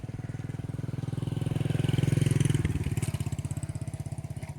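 A 2009 Mahindra 275 tractor engine runs steadily at close range, a loud rhythmic diesel chugging that swells slightly in the middle and then settles back to an even idle.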